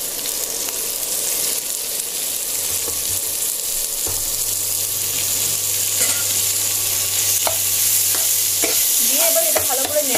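Soybean, onion and tomato stir-fried in a pan: a continuous close sizzle with occasional spoon scrapes and clicks against the pan, no talk.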